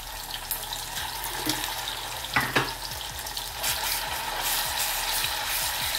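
Spice masala for patodi rassa hits hot oil and fries with a loud, dense, continuous sizzle, with a brief clatter of stirring midway.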